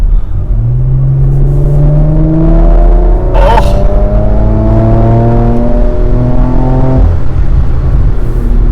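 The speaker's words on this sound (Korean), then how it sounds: "배기음이라든지 엔진음이 엄청 운전자를 자극하네요" A Porsche Macan GTS SUV drones steadily while driving, its engine and exhaust rising in pitch through several gear pulls, loud and close from inside the cabin, with a brief voice over it.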